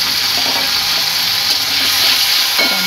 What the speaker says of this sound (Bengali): টমেটোটা দিয়ে একটু নেড়ে নেবো